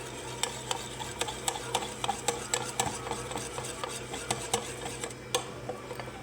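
Paratha batter of flour, salt and milk is whisked in a bowl, a steady run of light utensil taps and scraping clicks against the sides, close and moderately quiet, with no voices.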